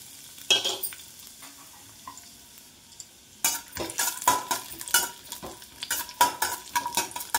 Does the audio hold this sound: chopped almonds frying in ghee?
yes